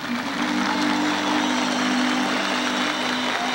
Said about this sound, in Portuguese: eu gostaria que vocês mandassem uma salva de palmas à Mãe Aparecida.